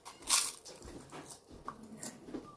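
Crunchy seaweed sticks bitten close to the mouth, giving one sharp loud crunch followed by softer chewing crackles and small snaps in a quiet room.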